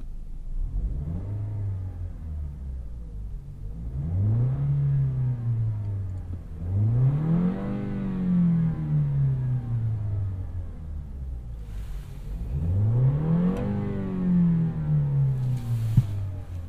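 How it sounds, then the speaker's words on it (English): A 2017 Lexus GS 200t four-cylinder car engine revs up and settles back four times in a row, a smooth mid-pitched drone rising and falling between blips. "So, started the engine. I'll let you listen in a second,"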